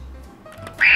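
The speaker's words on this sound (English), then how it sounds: "The duck." Pressed on a children's learning toy, a button sounds one short, loud duck quack near the end, following a few faint clicks and low hum.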